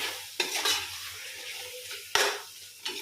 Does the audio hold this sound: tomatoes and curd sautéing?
yes